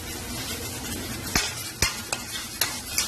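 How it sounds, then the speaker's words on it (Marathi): Tomatoes frying in oil with onion and ginger-garlic paste for a Konkan chicken thali, a steady sizzle punctuated by five crisp spatula clacks against the pan. "कांदा आलं लसूण चांगला परतून चांगला झालेला आहे, त्याच्यात मी टोमॅटो टाकून घेते."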